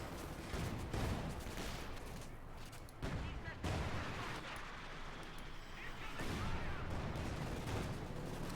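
Continuous battlefield din from a Company of Heroes 2 fight: dense, overlapping rifle and machine-gun fire with heavy booms, loud and unbroken throughout, with a faint voice underneath.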